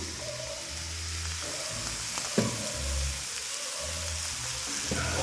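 Ridge gourd pieces tipped into onions frying in a pan, a continuous close hiss of sizzling oil with a sharp clatter as they land and intermittent low scraping as the contents shift.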